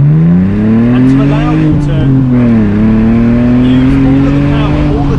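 A BMW Z4 engine accelerating loudly and close, its rising engine note climbing and dipping through gear changes, with someone talking over it.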